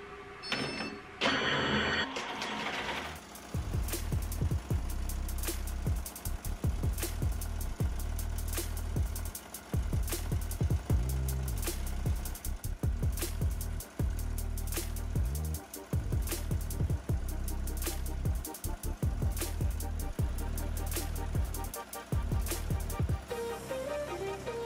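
Single-needle embroidery machine stitching a monogram onto a Comfort Colors pocket T-shirt at about 900 stitches a minute: a loud, steady, rapid mechanical clatter that runs almost without a break, with a brief startup at the beginning.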